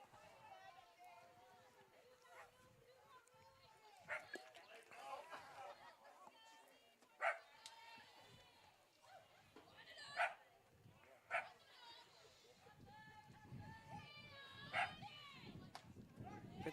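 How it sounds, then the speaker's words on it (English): A little long-haired dachshund barks at a Great Dane at a softball game, sharp yips popping out several times at intervals over crowd noise and a commentator talking throughout. "If you hear the dog barking, that is a little long-haired dachshund that's barking at what appears to be a Great Dane"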